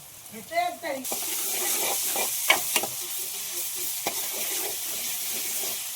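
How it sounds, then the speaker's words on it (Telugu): Ginger sizzling and frying in a pan for a village-style Telangana chicken curry, a steady loud hiss with a few stirring scrapes and clinks near the start. "అల్లం ఇలా వేగితే బాగుంటుంది"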